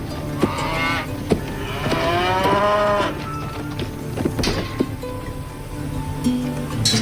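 Cattle mooing on a farm, several drawn-out lowing calls from nearby animals over a steady, noisy outdoor background with scattered knocks.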